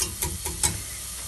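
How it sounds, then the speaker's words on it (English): A flour and butter roux being stirred in a pan, with three soft scraping strokes of the spoon over a low background sizzle, close and fairly quiet with no voices. "As long as we cook that flour off a bit, we'll be fine. Making a nice roux there."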